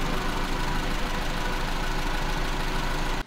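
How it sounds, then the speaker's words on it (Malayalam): Maruti Zen petrol engine with a freshly tuned carburetor idling around 900 rpm, a steady, close, continuous mechanical drone with no talk. "ഇനി നമുക്ക് വാഹനം ഒന്ന് ഓടിച്ചു നോക്കാം."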